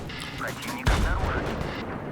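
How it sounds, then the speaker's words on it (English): A Panzer III tank gun fires once in a World War II tank combat game, a loud, deep boom that rolls into a long rumbling decay over a steady background drone. "It's a Panzer III."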